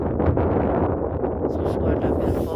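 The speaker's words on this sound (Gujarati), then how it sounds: "સુસવાટા પર પવન ચાલુ છે" Strong wind buffets the microphone at open salt pans with a constant loud, rough roar and gusty surges, while a person speaks underneath.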